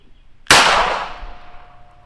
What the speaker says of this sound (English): to fire it, the trigger's spring loaded, so you just pull it back and then just let go and it'll slam the firing pin forward